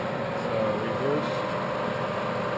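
A Clausing Colchester 16 x 48 lathe runs in reverse, giving a steady mechanical hum with a faint high whine and low rumble that holds unchanged for the whole stretch, with no speech.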